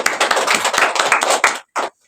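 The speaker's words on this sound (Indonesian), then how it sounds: "Tepuk tangan dulu untuk semuanya." A school class claps together in a classroom, a quick burst of many hands striking in uneven rhythm that stops abruptly, followed by one last short clap after a brief pause.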